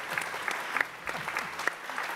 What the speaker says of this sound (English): Yes, the loudest applause of the night.